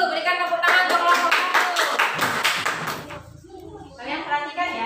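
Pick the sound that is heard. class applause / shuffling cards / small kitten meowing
class applause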